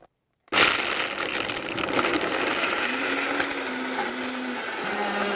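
A Vitamix blender kicks on abruptly after a moment of silence and runs at a loud, steady roar, grinding almonds, sweet dates and cocoa powder with a rough, gritty churning throughout.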